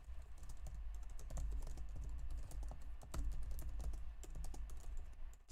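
A computer keyboard is typed on continuously and quickly, with dense, steady clatter of keystrokes close up and no voices.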